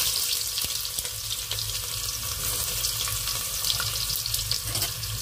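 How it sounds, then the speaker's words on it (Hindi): Chopped onion fries in hot mustard oil with cumin seeds in a pot, giving a steady, dense sizzle and hiss that runs the whole time, close and even with no talk. "और इसको हम हल्का फ्राई करेंगे"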